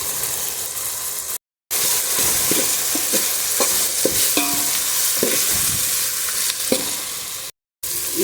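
Beans stir-fried with grated coconut in a pan, a steady sizzle with repeated scraping and clinking of the spatula, cut by two brief silent gaps.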